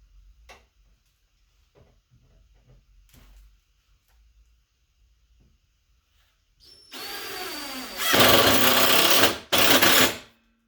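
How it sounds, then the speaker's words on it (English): A power driver runs screws into the top board of a welding cart in short whirring bursts, loud and close, after a quiet stretch of faint handling knocks. "Now I just got to put a couple screws in the top to hold that board in."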